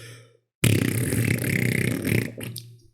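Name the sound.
voice imitating a giant balloon deflating like a fart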